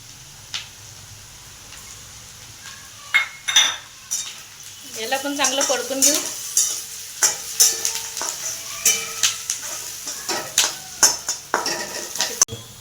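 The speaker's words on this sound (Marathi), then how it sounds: "लसन आणि कांदा चांगला खडा मसाला परतून झाला" Onion, garlic and ginger frying in oil with whole spices, a low sizzle under repeated clanking strokes of a spoon against the pan, growing busier and rhythmic in the second half.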